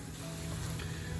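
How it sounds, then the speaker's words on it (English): Meat sauce for spaghetti sizzles steadily in a pan as it is stirred together with the meat, a dense, even crackling hiss with no voices over it. "Once you've poured the sauce, stir in with the meat."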